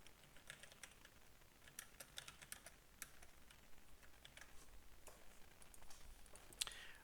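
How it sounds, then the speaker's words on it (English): Computer keyboard typing during a Python programming lesson on if statements, a steady run of light, quick key clicks at close range with no talk over it. "Still typing."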